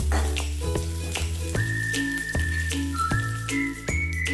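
Onions fry in oil in a pan for a mutton dish, a continuous close sizzle with tinkling metal clinks and a thin whistling tone, with no speech.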